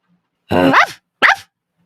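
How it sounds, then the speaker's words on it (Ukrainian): A fluffy dog gives two sharp, loud barks close by, the first longer and the second brief, with silence around them. "Зненацька загавкав пухнастик."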